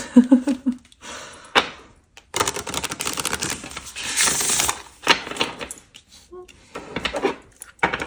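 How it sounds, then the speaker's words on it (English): A deck of tarot cards is shuffled by hand in quick bursts of riffling and flicking, with short pauses and a few soft thumps between them, heard close and alone. "So let's shuffle."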